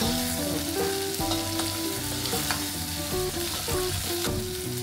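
Mutton masala fries in oil with a continuous close sizzle and repeated stirring scrapes, with no talk over it.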